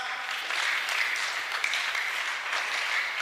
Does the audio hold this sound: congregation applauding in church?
yes